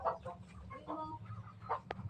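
A chicken gives a few short, soft clucks close by over a low steady background hum, ending with a sharp brief sound.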